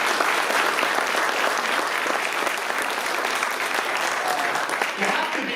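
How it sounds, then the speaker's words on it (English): Dense, sustained applause from an evening political event crowd for the attorney general's wife, steady and loud throughout with a few voices mixed in. "Let's give a round of applause for Denise."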